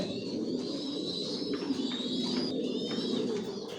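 Racing pigeons of a Johnson line coo continuously in a loft where a hen sits with new chicks, a dense overlapping murmur with some higher chirps above it.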